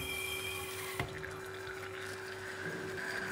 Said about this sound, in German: So, jetzt wollen wir eine 3-Liter Flasche füllen.